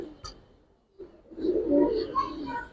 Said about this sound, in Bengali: এটা কারনি কবুতর ভাই